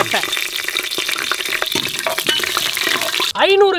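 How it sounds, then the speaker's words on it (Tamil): Oil and ghee heat with cloves, cardamom, star anise and cinnamon in a pressure cooker, giving a loud crackling fry with clinks. A voice speaks over it and a brief tone sounds at the end. "ஆயில் 150 ml, நெய் 150 ml ஊற்றிடலாம்"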